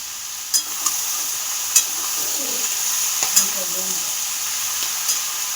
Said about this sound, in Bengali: এগুলো ভাজা ভাজা হোক